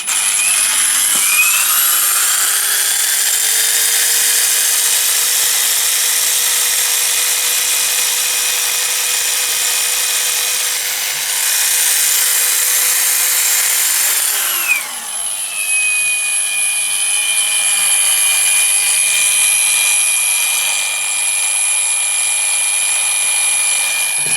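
A BIHUI Brushless AGBL12 mains-powered angle grinder runs free at high speed, a loud sustained high-pitched whine, close and alone, with a brief pitch dip and recovery partway through.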